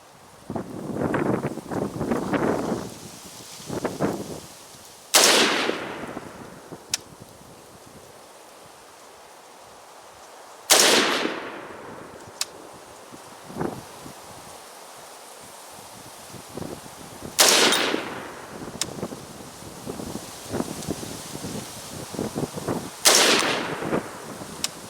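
AR rifle firing five rounds outdoors, each shot a sharp loud crack with a trailing echo, spaced several seconds apart, with wind and rustling between shots.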